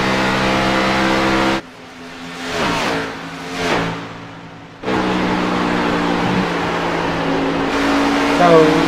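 A race car engine in an Xfinity Series stock car race revs hard as the driver opens the throttle, a loud sustained drone with rising and falling pitch, dipping briefly before surging back.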